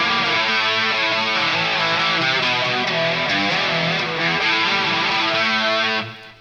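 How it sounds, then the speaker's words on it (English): Enya Inspire smart guitar played through a hard heavy distortion tone with reverb, thick sustained chords ringing loud and alone for about six seconds before cutting off. "overall is a straight up hard heavy distortion. This one does have some reverb on it."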